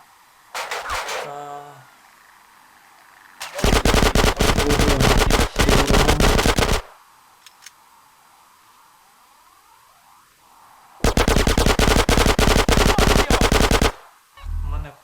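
Gunfire from a machine gun in the video game GTA San Andreas comes in two long, loud, continuous bursts of rapid shots. Quieter gaps separate the bursts, with a short rattle of fire at the start.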